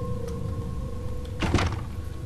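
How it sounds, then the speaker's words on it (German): A door swings shut in the horror game Penumbra: Black Plague, a short muffled thunk with a scraping burst midway through, set against a low humming industrial ambience. "Die Tür ging zu."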